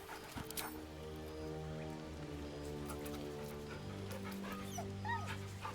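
A dog in the video game Baldur's Gate is petted, giving soft happy whimpers and snuffles close up over steady sustained game music and a light rain-like ambience.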